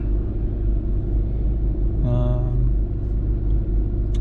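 A Porsche GT3 engine idles with a steady low rumble throughout, and a short tonal whine rises briefly near the middle, heard from close by with no talking.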